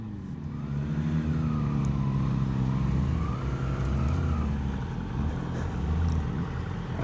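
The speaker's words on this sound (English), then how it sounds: "There's Paul Young on a marvellous new GSXR 600" A new Suzuki GSX-R 600 superbike ridden on a Spanish road gives a mid-distance engine note that rises and falls as it revs through gears, fairly steady and moderately loud, with no talk.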